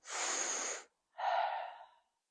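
Two deep breaths during a guided breathing exercise, a long forceful inhale followed by a pause and a slower exhale, close and clear with no talking.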